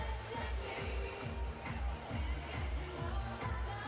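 Crowd of supporters packed into the RAC Arena for a women's boxing bout, a steady broad murmur of many voices filling the hall without distinct cheers.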